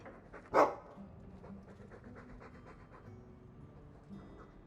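Dog from the video game Dragon Age 2: one sharp, loud bark near the start, then steady rhythmic panting that continues quietly to the end, with no talk.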